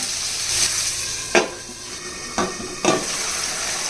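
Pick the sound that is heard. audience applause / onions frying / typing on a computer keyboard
onions frying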